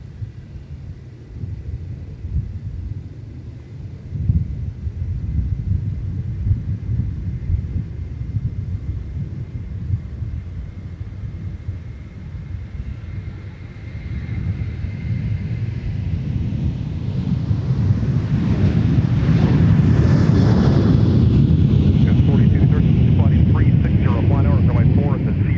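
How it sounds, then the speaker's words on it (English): A Sun Country airliner departs from runway 4 at Minneapolis–St. Paul airport, its deep engine rumble building from a distant low drone to a loud, broad roar as it accelerates, heard from a distance. "Sun Country 635 given clearance to depart"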